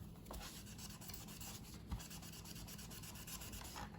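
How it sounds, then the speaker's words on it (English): A magic eraser rubs scuffs off a 2002 HPI Micro RS4 1/18 RC car body, a quiet, continuous scratchy scrubbing close up with small knocks and no talking. "I was trying everything to get the scuffs off and nothing's working, so I was like, I'm gonna try this magic eraser"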